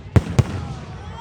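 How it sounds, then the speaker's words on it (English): Two distinct fireworks explode a moment apart on Canada Day, deep sharp booms followed by a lingering low rumble. "Happy Fireworks Day, folks, for Canada Day 156."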